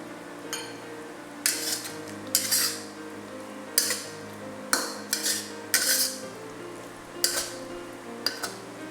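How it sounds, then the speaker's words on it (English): A utensil scrapes and clinks against a pan as spring onions are stirred into a five-spice pork belly stir fry, giving a series of sharp metallic knocks with gaps between them and a faint hum under them. "Turn off the heat and stir in the green parts of the spring onions."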